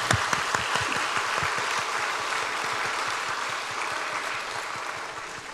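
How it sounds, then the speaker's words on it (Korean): A gathering gives steady, vigorous applause in honour of children and young people, a dense wash of clapping that holds for several seconds and eases slightly toward the end. "우리 힘차게 박수하겠습니다"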